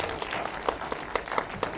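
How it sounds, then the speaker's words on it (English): Audience applause at a film festival Q&A in Dallas, a scattered round of clapping heard moderately close with individual claps standing out, no talk over it. "Big round of applause as they make their way back to their seats"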